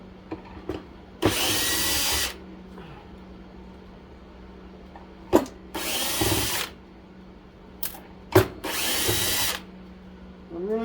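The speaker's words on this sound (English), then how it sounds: "really surprised that this screwdriver bit isn't too big for these little screws" Power screwdriver backing small screws out of an air fryer during a teardown, three short loud whirring bursts separated by quiet pauses and light clicks of handling.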